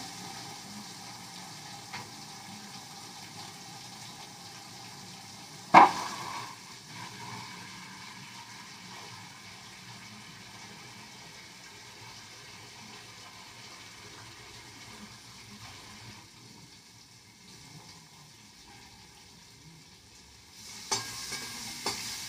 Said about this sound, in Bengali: করলা ভাজাগুলো হয়ে গেল